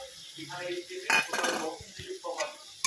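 Cornflour slurry is stirred into chili chicken in a pan, with a metal spoon scraping and clinking against the pan over a soft sizzle. There are bursts of scraping and brief murmurs of a voice.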